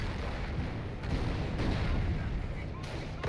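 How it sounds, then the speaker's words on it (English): Anti-tank rifles open fire in a Company of Heroes battle, a dense, continuous rumble of heavy gunfire and distant booms with a few louder cracks, steady and loud throughout. "all those AT rifles opening fire is going to push those tanks back"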